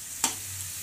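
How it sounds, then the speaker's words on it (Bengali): Greens fry in a pan over a medium gas flame: a single short scrape of stirring over a soft, continuous background sizzle. "এখন গ্যাসের ফ্লেমটাকে মিডিয়াম করে দিয়ে এটাকে ভাজা ভাজা করতে হবে।"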